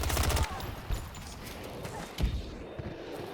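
The PF51 fires in Battlefield 2042 at close range: a rapid burst at the start, then isolated sharp shots over a busy battlefield backdrop, with some speech underneath.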